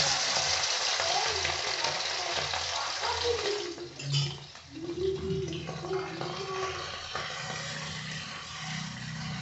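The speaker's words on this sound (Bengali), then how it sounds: "এটাকে আমি আগে ভেজে নেব চিংড়ি মাছটাকে" Prawns coated in salt and turmeric fry in a pan, giving a steady, loud sizzle that dips briefly midway, with faint indistinct background sounds beneath.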